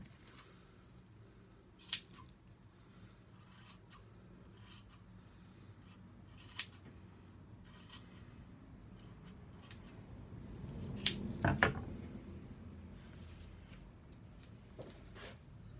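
Scissors snip and trim a piece for a helmet project, soft scattered cuts and rubbing handling noises at close range, with a louder burst of cutting near the end over faint background hum.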